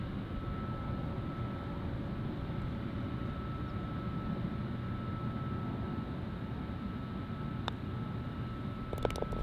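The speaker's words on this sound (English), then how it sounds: "We got airplanes flying overhead." A steady low rumble of an airplane drones overhead at a distance over a golf course, continuous and even, with a couple of faint clicks near the end.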